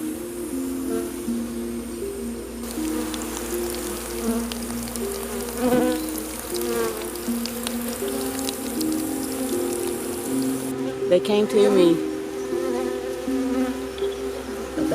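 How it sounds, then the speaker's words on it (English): Bees buzz steadily as they fly in a line back to their hive in an oak tree, a dense outdoor hum with individual insects passing close by, and a brief spoken remark partway through. "That's called the bee line, and they're going back to their hive in one of those oak trees up there."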